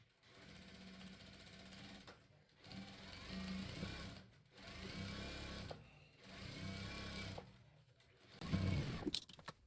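A sewing machine stitches a seam along the edge of a quilt in three or four steady whirring runs separated by short pauses, close and clear with no talking.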